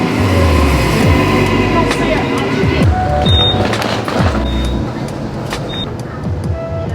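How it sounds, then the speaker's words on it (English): Train pulling into a station platform, a steady low rumble with rhythmic clunks and brief high squeals from the wheels, fairly loud and close, with platform ambience and some voices in the background. "Please wait behind the yellow safety line until the train has stopped."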